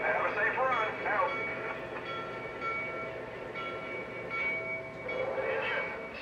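A Lionel model train pulled by a GP7 diesel engine runs with a steady rolling rumble and a tonal engine hum that swells in places.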